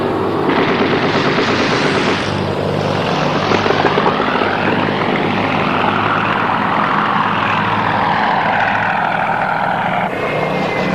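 Four-engine B-17 bomber droning in flight over Berlin, a loud, steady propeller roar that holds throughout with slow swells in pitch, alone without voices.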